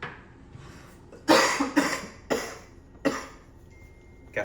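Several sharp, separate coughs in quick succession from one nearby person, loud bursts with short gaps between them and no speech around them.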